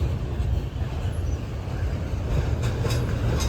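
A Norfolk Southern freight train approaching in Gaffney, South Carolina, a continuous heavy low rumble of engines and rolling cars, steady and loud throughout with faint high squeals near the end.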